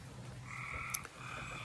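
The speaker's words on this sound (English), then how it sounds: "As you can see, the frogs are coming out." Frogs croak steadily outdoors on a rainy spring day, a continuous layered chorus of calls with one brief sharper sound near the middle, faint and distant with no talking.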